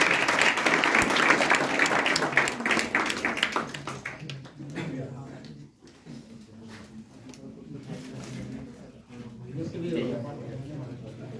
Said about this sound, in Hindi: हम सभी इसके लिए सर एक बार जोरदार तालियां बजाएंगे।